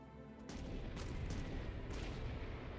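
Gunfire in the Guild Wars 2 video game: a few sharp bursts of shots over a dense, steady wash of battle noise, loud and close.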